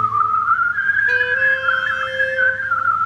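Whistled melody from a repaired toy music box playing back its tape, a steady continuous tone drifting gently in pitch, with a second harmonic line joining partway through, heard alone and fairly loud.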